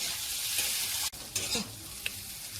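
Chickpeas sizzle and crackle while being stirred in a blackened iron wok, a steady frying hiss broken by a sharp scrape of the utensil and a few louder stirring clatters, close and fairly quiet with no talk.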